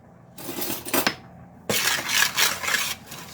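Walnuts stirred in a hot pan make two bursts of dry rattling and scraping against the metal, a short clatter then a longer, louder stretch of tumbling nuts, close and with no talk.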